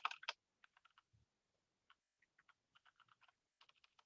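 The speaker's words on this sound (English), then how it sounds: "my typing is terrible" Computer keyboard keys clatter in quick irregular bursts, a few louder clicks at first then lighter scattered taps, close and quiet with short pauses between.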